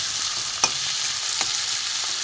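Chopped onion, garlic, ginger, chili and tomato frying in a pan, a dense, bright sizzle throughout with a couple of soft stirring scrapes, close and loud.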